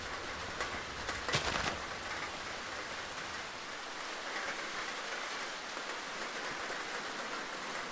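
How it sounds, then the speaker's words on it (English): Steady rain falls in the Minecraft Create mod video game, an even hiss of drops that holds at the same level from start to finish with no voices. "let me get rid of the rain."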